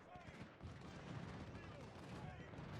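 Musket volleys and artillery fire from a Civil War battle at Fredericksburg in Ultimate General: Civil War, a steady faint crackle of distant gunfire rolling on throughout.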